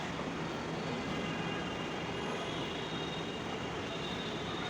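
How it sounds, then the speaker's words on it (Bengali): A Dhaka metro rail train rolls into a station with a steady, even rumble and whoosh that holds at a constant level, with a faint high whine near the middle. "ট্রেন আসতেছে মেট্রো রেল"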